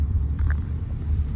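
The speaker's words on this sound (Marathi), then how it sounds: "मामा गाडी चालवतो अजून मामा तर गाडी चालवतो ना अजून." A new Mahindra Thar's engine while driving: a low, steady rumble that fills the short stretch, heard from close by with no clear voices.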